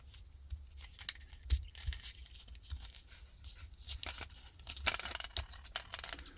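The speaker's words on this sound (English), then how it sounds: "If you have a scissor, cut it because it's annoying sometimes." Scissors cut open plastic battery packaging for a Toyota remote key, heard as close, irregular crinkling, tearing and snipping sounds with short louder bursts.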